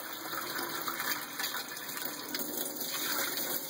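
Tap water runs continuously while rinsing a film developing tank, a steady close splashing and hissing stream with no talking.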